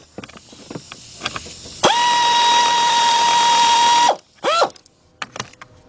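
A ratchet with a 13mm socket turns a bolt at the back of the intake on a Chrysler-family engine during timing belt and radiator work. A sharp clicking leads into a loud, sustained whine for about two seconds, then another short burst.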